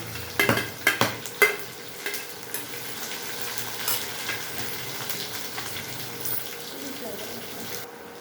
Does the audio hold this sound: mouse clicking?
no